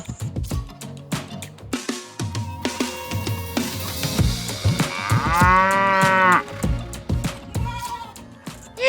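A cow brought home for the Eid sacrifice lets out one long, loud, drawn-out moo midway, with scattered thumps and shuffling before and after it.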